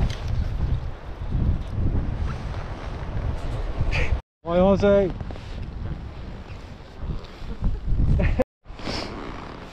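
Strong, gusty offshore wind buffets the microphone aboard a small boat at sea in heavy swell, a constant loud roar that rises and falls, with someone talking over it.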